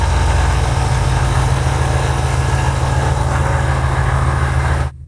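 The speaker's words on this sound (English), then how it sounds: "It's idling now." A car engine idles steadily with a low, even rumble and constant loudness throughout, with no voices, cutting off abruptly at the very end.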